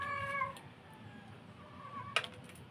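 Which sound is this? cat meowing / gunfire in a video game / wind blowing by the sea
cat meowing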